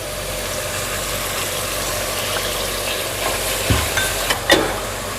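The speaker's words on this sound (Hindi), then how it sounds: "और इसको अच्छे से भून लेंगे 2 से 3 मिनट तक।" Mutton curry masala fries and gets stirred in a pressure cooker over medium heat, giving a steady close sizzle throughout, with a few soft spoon knocks against the pot near the end.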